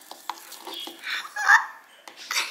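Green slime mixed with colored star glitter is stirred, giving wet squishing and sticky popping sounds in irregular bursts, close and moderately loud, with a voice speaking briefly.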